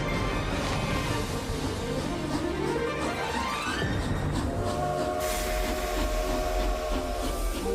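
A train rumbles along in an ad for a Harry Potter train adventure, a loud continuous rolling roar with hiss and rising tonal sweeps, then a sustained whistle-like horn tone near the end.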